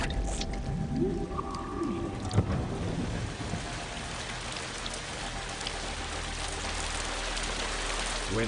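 Heavy rain falls at night in a dense, steady hiss of drops, with a brief louder patter near the start and a low rumble underneath.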